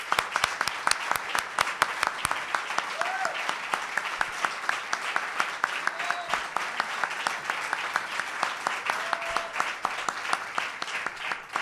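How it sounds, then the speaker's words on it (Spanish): Sustained audience applause at a book presentation at a book fair, dense steady clapping from a crowd at moderate level that holds evenly throughout the clip. "Un aplauso."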